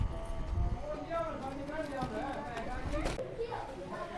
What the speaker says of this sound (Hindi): वो भैंस फुल स्पीड आने लग रही है।